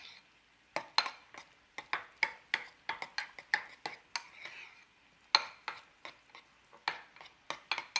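Spoon stirring cottage cheese and warm blueberries in a bowl, with irregular clinks and scrapes of utensil against the dish, close and moderately loud, no talking.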